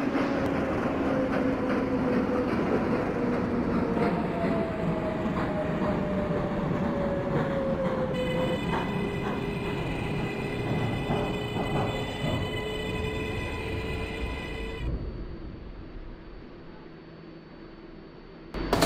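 An R142A subway train in the OpenBVE train simulator rumbles steadily with a rising motor whine, then a bright multi-tone electronic chime rings out before the noise settles down.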